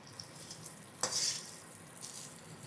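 Spices for a coconut chutney tempering hit hot oil with a sudden bright sizzle burst, fading into a soft steady crackle; fairly quiet and close.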